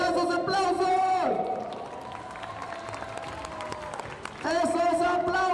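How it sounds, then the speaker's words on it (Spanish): An audience claps and cheers in a noisy crowd wash while a voice shouts excitedly over it, the applause swelling again near the end. "¡Esos aplausos!"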